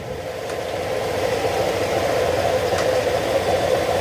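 A Honda Click 125 scooter engine idles after an overhaul, with a steady, close, smooth mid-pitched running hum and no talk over it.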